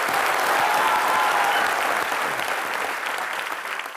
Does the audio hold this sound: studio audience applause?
yes